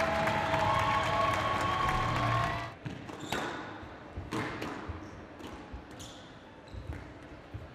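Spectators at a women's squash match in the Tournament of Champions 2018 break into loud, sustained cheering and applause, which stops abruptly and gives way to sharp ball strikes and squeaks echoing around the court.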